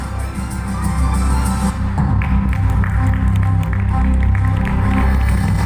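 Loud, sustained applause from an audience fills an awards-night hall, steady clapping continuing throughout with crowd noise mixed in.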